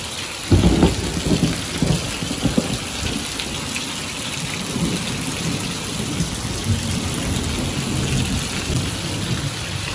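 Heavy rain pours down steadily, a dense close hiss with gushing runoff, while low thunder rumbles through the opening seconds and continues beneath the downpour.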